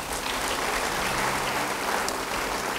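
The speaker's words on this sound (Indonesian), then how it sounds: "Beri tepuk tangan." Audience applause at a church sermon, a steady dense wash of many hands clapping throughout, fairly loud and continuous with no speech over it.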